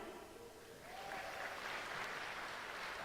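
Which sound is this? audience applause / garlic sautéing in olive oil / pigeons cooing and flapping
audience applause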